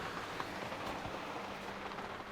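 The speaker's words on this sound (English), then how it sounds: "It's stormy out there, guys. It's stormy." Stormy rain drums steadily on a hand-built camper in the Pacific Northwest, a faint, even hiss of drops with no voices.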